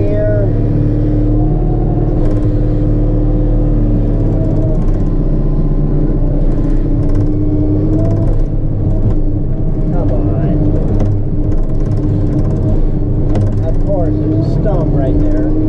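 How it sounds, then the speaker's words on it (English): A car engine idles with a steady low rumble while the driver holds the brake and shifts into forward gear, a voice talking over the running motor. "I'm just gonna step on my brake, throw it into my forward gear"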